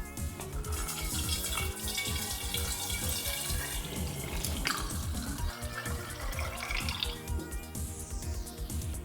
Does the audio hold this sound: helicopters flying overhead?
no